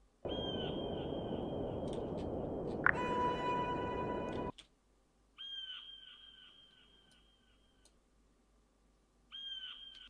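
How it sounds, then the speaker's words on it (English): A crow caws in a bird ambience recording: a long stretch of harsh, repeated calls over a steady hiss, then shorter bursts of cawing separated by quiet gaps. "Okay, so this is the bird."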